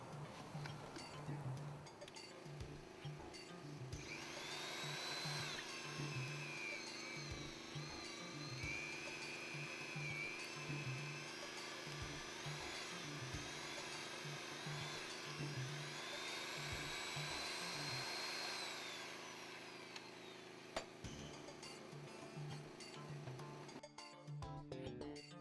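A pipe facing planer whines steadily as it shaves the ends of plastic pipe during trenchless pipe bursting work, a continuous high grinding tone starting after a few seconds of low rumbling and stopping near the end.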